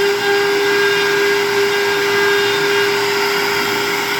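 A power drill with a 1/4 inch bit boring a run of holes, a steady loud whine held without pause throughout, motor drone with a bright constant tone.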